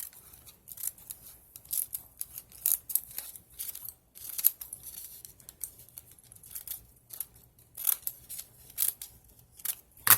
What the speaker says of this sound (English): The scissors not working on this.